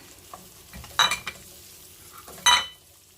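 Pounded chili, garlic and onion go into hot oil for a ginger fish stir-fry, making two loud bursts of sizzle between quieter scrapes and clinks of a utensil against the pan.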